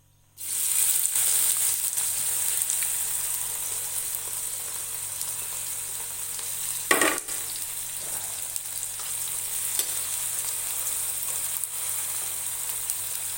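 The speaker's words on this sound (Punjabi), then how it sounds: "ਤੇਲ ਆਪਣਾ ਚੰਗੀ ਤਰ੍ਹਾਂ ਗਰਮ ਹੋ ਚੁੱਕਿਆ ਹੈ ਹੁਣ ਇਸ ਵਿੱਚ ਬਰੀਕ ਕੱਟੇ ਹੋਏ ਪਿਆਜ਼ ਪਾਵਾਂਗੇ" Finely chopped onions fried in hot oil for a Punjabi potato and eggplant dry sabzi, a loud steady sizzle starting abruptly and continuing evenly, with one brief stirring clatter midway and no talk.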